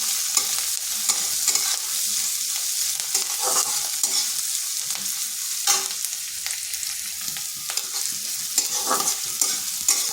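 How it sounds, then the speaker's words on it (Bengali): Sliced onion and green chillies fry in a pan with a continuous sizzle, broken by repeated scraping and clattering from stirring throughout. "এরপর পেঁয়াজটা একটু ভেজে নেব।"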